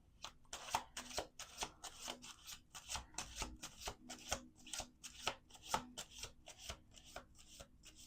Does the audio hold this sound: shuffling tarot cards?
yes